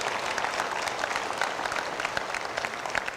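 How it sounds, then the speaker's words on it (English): A crowd in the stands at a junior market beef show in an arena gives a big round of applause, a dense sustained clapping with scattered sharper claps throughout. "let's give all them a nice big round of applause"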